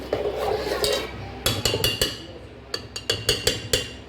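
A spoon stirs and scrapes millet dosa batter with salt in a steel vessel, in brisk bursts of clinking strokes with short pauses between, close and fairly loud.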